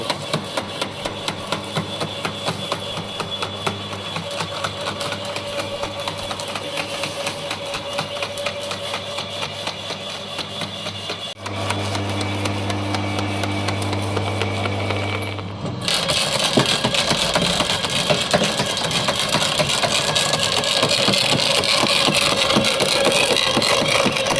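A GTM garden shredder runs with a steady mechanical hum and rapid rattling as it chips leaves and twigs, its pitch shifting partway and the grinding turning louder and rougher for the last stretch.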